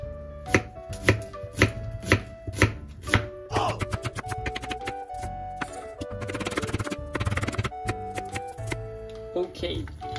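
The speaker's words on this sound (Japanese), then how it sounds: "出汁を取ってる間に玉ねぎを切っちゃいます。" A knife chops onions on a cutting board in a series of sharp, evenly spaced strikes, followed by a denser run of rapid cuts while voices talk nearby during dashi preparation for a fish curry.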